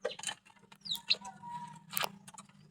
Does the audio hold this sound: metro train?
no